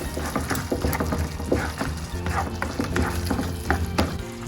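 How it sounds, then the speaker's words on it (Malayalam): A prawn layered salad is tossed with garlic paste in a bowl, giving repeated close scraping and squelching strokes in an even rhythm, with faint speech in the background. "എന്നിട്ട് വീണ്ടും ഒന്ന് മിക്സ് ആക്കി കൊടുക്കാം"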